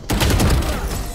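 Gunfire in the tactical shooter Valorant: a rapid burst of loud, close shots runs through the whole moment, with sharp repeated reports over a sustained rumble.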